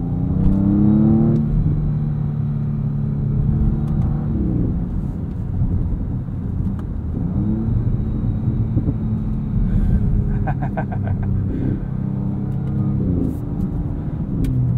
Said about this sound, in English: This sounds really good. You can get some pops and burbles on the overrun.